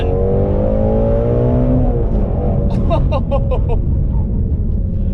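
A Ford Shelby GT350R's exhaust roars loudly up close as the engine revs, a deep rising drone with a burst of crackles near the end.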